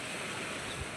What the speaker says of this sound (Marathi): बघा इकडे आहे तो धबधबा.